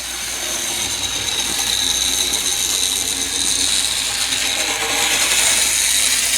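An N scale Union Pacific F unit model locomotive, unoiled but with cleaned wheels, runs loudly around a track with a steady, continuous mechanical whirring and ratcheting rattle, close and unbroken with no talking.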